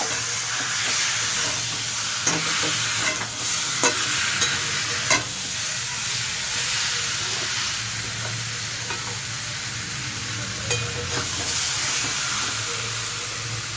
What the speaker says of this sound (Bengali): এটা স্টিম করা চিকেনটা দিয়ে দিলাম। চিকেনটা দিয়ে কষতে হবে